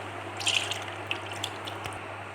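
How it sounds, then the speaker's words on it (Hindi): Fruit syrup poured from a cup into a container for a creamy fruit salad, heard as a soft, steady liquid trickle with a few small splashes over a low hum, quiet and without talk. "अब मैं एक डब्बा लूँगी, जिसमें सबसे पहले मैं डाल लूँगी फ्रूट सिरप।"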